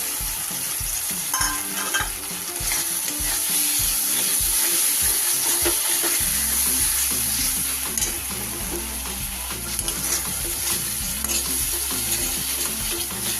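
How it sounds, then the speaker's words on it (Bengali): Chopped tomato sizzling and frying in a pan for potol rezala, with repeated scraping stir strokes and a steady hiss throughout, no voices. "এবার দিয়ে দেব আমি ছোট ছোট করে কেটে রাখা একটা টমেটো।"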